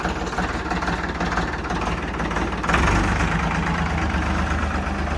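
Ford 3600 tractor engine idling up close, a steady loud diesel chug that grows slightly heavier and louder about halfway through, with no talk over it.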